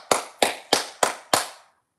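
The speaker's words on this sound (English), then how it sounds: "Clap it up, man." Five sharp hand claps in an even, steady rhythm, close and loud, each with a short ringing tail, followed by silence.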